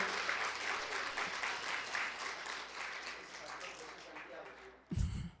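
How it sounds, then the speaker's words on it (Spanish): A church congregation at a Sunday family service applauds for Jesus, steady dense clapping that fades slightly over several seconds before a brief loud burst near the end. "Dale un aplauso a Jesús."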